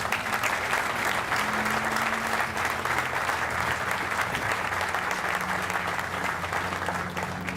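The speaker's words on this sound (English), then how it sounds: "Round of applause." An audience at the groundbreaking ceremony for the Grand Rapids soccer stadium applauds with steady, sustained clapping from a large crowd throughout.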